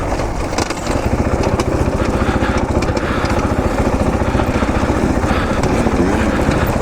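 A 2018 KTM 500 EXC-F dirt bike engine runs loud and steady at close range, its rapid firing pulses continuous throughout while riding, with no voices.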